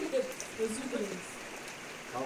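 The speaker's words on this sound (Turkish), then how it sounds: "Evet arkadaşlar, yağmur başlamıştı." Rain falling outdoors at a house where construction work has stopped, a faint, soft hiss of drops heard under quiet talk.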